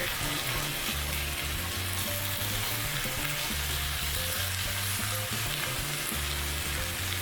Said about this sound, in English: Keeping an eye on those onions, because they're about to need a stir.